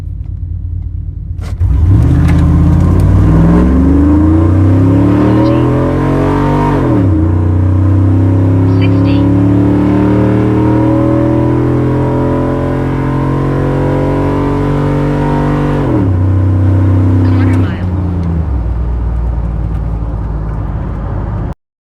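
Car fitted with Speed Engineering 1 7/8-inch long tube headers and an X-pipe exhaust, accelerating hard through the gears in a quarter-mile pull, loud rising engine roar with distinct drops at each shift before fading off.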